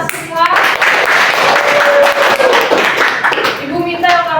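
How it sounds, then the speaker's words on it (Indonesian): A classroom of high school students claps together, loud and close, mixed with lively voices of the children and the teacher throughout. "Ya, tepuk tangan buat kita semua."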